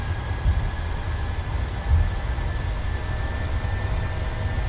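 Boeing 737-700 engines at takeoff thrust in Microsoft Flight Simulator: a steady, loud, low-pitched jet roar with a faint high whine, running evenly throughout with no talk.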